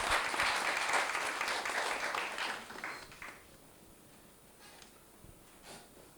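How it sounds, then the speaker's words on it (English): An audience at a Windrush poetry event applauds Michelle, with a burst of many hands clapping that is loud at first, then thins out and fades after about three seconds into scattered claps and near quiet. "Round of applause for Michelle, please."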